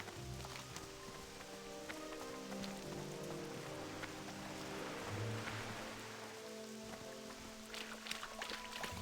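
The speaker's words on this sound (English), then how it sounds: "So yeah, it's a rainy morning" Rain in the Westfall zone of World of Warcraft Classic, a soft continuous patter of drops on surfaces, faint and steady throughout with no voices.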